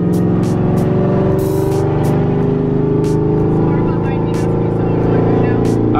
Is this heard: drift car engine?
yes